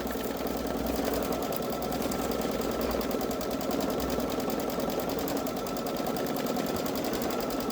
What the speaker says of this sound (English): I don't want to disturb the machine while it's embroidering.